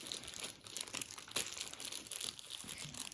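Close, crisp crinkling and rustling of plastic wrapping as a package is torn open, with an irregular rhythm and one sharper crackle partway through, no talking over it.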